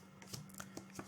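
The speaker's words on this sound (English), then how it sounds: "you can lay another 12 cards on top of this" Tarot cards laid one by one onto a table, giving soft brushing slaps in a quick uneven series, quiet and close with a low steady hum underneath.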